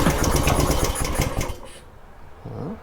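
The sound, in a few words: Warrior 200cc engine starting with choke on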